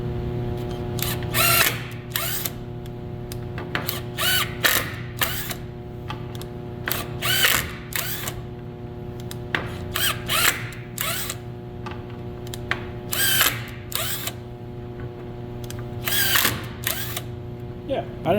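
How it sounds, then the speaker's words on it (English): An impact driver fitted with a magnetic PH2 bit drives screws in several short, loud bursts of rapid hammering, with a steady mechanical hum running beneath and quiet pauses between each drive. "And I'm just going to drive screw a couple of times."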